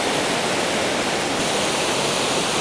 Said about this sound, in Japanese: The Tateiwa waterfall.